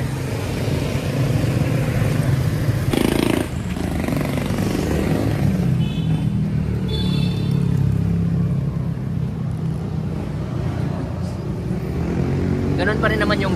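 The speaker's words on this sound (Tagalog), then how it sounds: "yung tambocho niya, muffler niya ay naka Yoshimura na rin." A Kawasaki Z200S motorcycle fitted with a Yoshimura muffler gives off a steady low engine rumble throughout, heard at close range beneath continuous talking.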